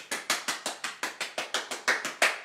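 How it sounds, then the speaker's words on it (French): A group claps in rhythm during a home theatre session, about a dozen sharp, evenly spaced claps, close and fairly loud with no talk over them. "Allez-y, on s'applaudit."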